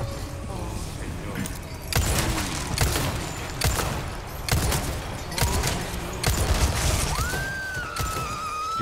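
Gunfire from the Resident Evil 4 Remake, several sharp broadband bursts spaced roughly a second apart, punching through constant game ambience and a talking voice.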